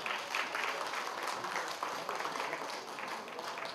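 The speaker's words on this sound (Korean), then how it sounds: "큰 박수 부탁드리겠습니다." Guests at a Korean first-birthday party applaud, a soft, even wash of many hands clapping at a distance, holding steady throughout with no talk over it.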